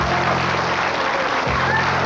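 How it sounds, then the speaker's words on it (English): A studio audience claps for a birthday cake on a Halifax children's TV show, a steady wash of applause at full volume for about two seconds. "Let's have a big round of applause for the cake."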